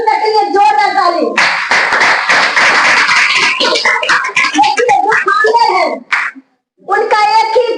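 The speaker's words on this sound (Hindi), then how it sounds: "हम लोग को गुरु माता पिता के लिए जोरदार ताली।" Loud applause from an audience at a DXN meeting, a dense burst of clapping running for several seconds, with harmonic voices or music near the start and end and a short gap of silence near the close.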